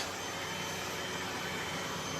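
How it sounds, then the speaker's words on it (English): A vacuum cleaner sucking dust out of a 1973 Pioneer QX-747 quadraphonic receiver, a steady close-up broadband whoosh and whine that runs unbroken throughout. "With the unit unplugged, I'm now going to vacuum out"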